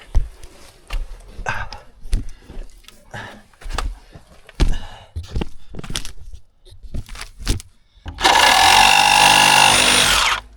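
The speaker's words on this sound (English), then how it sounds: "I'm going to try using the Sawzall instead of the grinder and see if that makes it a little easier" A Sawzall reciprocating saw cuts during work to move a cabin by hand, a loud sustained buzzing burst near the end after a stretch of knocks, clatter and tool handling.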